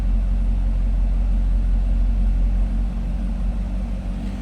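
The V8 engine of a 2012 Chevrolet Corvette Grand Sport convertible idles steadily with a deep, continuous low rumble, heard from behind the car, close by and fairly loud, with no voices.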